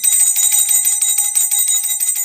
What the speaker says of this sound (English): Ringing a freedom bell every time a woman comes here to tell me she broke up or divorced a toxic male